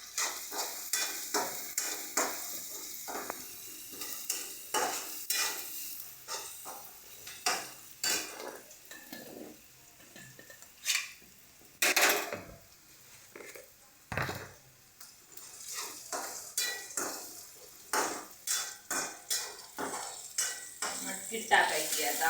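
Turmeric drops into hot oil for matki fry and gives a faint, crackling sizzle. Frequent sharp clicks and scrapes of a spoon against the pan punctuate it in an irregular rhythm, close by, and nobody speaks.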